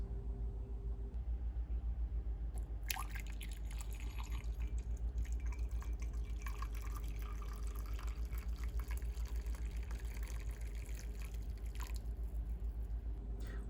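Freshly brewed Coffea Racemosa coffee from South Africa is poured, a thin liquid trickle with small splashes close by over a constant low mechanical hum.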